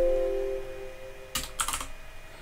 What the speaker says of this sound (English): Just going to type in and search for CR10.